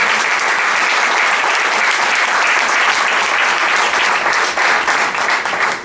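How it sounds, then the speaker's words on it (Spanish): Dense, loud congregational applause in a church, an unbroken roar of many hands clapping that carries through to the end with no talk over it. "Un aplauso al Señor."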